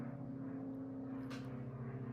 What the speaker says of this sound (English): Can you hear that helicopter?